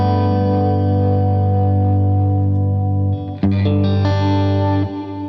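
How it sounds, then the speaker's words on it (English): Strymon BigSky MX reverb pedal with modulation turned up, sustained guitar tones swelling with a chorus-like wobble, then a new chord struck and ringing out before fading. "if you turn this up, it's going to get a bit more wobbly and almost like there is a chorus pedal in it"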